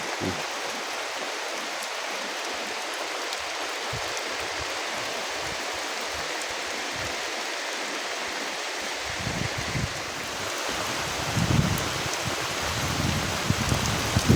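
Heavy rain pours steadily over a farm field hut during a strong storm, a dense continuous hiss that swells louder and more rumbling toward the end as wind gusts join in.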